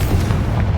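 A Confringo fire spell bursts in Hogwarts Legacy, a short, loud, deep boom with a rumbling low-end body and no voices over it.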